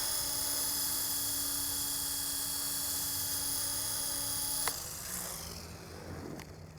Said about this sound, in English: not bad for a small little electric helicopter